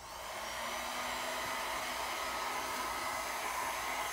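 A hair dryer blows steadily and up close over acrylic paint on a canvas, a constant loud whoosh that lasts throughout, with one brief spoken word.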